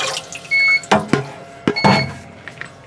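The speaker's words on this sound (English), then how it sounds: "I'm just going to take some water and pour it in." Water poured by hand into a thermocycler, a few short splashing gushes and trickles with small knocks of the container between them, close and fairly loud.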